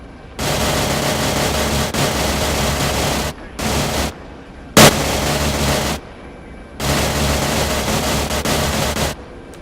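Sustained gunfire from an Army unit's firing exercise roars loud and close in long continuous bursts broken by brief pauses, with one sharp, louder crack near the middle.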